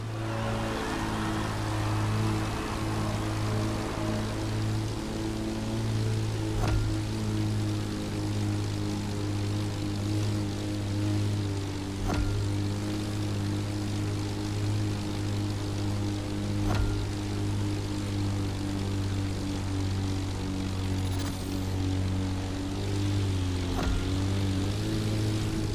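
Propeller plane flying in the racing game The Crew Motorfest, a steady droning engine hum with strong low tones held throughout, loud and continuous with no talk.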